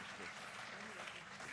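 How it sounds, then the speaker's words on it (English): An audience at a student event claps after a performance, a faint, even wash of applause that fills the whole short moment without letting up. "Let's give them a huge round of applause"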